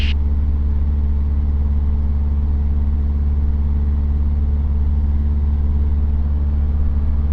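A Luscombe 8A airplane engine idles steadily on the ground at night, a continuous low droning hum with even, unchanging loudness throughout.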